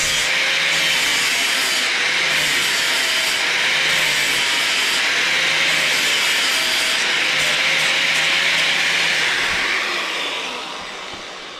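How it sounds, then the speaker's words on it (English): A 36 grit abrasive disc grinds steadily and loudly against a metal part for custom motorcycle oil lines, a continuous harsh whine with slight wavering pitch that eases off near the end. "36 grit disc on there, so I should take it down quite quickly"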